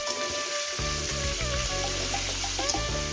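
Pointed gourd curry with whole green chilies frying in a pan, a steady close hiss and sizzle with a few crackles and stirring knocks underneath.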